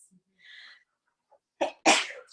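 A single sharp sneeze bursts out close by, preceded by a quick inhaled breath, against otherwise near silence.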